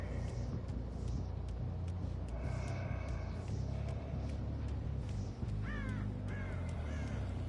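Crows caw several times in Dead by Daylight, harsh calls repeating over a steady ambient rumble, moderately loud, with a quick cluster of caws near the end and no talk.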